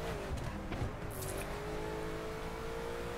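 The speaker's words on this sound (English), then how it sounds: "I'm driving 100 around the corner" A car in the racing game The Crew corners at speed, its steady engine drone holding a rising tonal whine for the whole stretch, with brief tyre and impact noises early on and no talk.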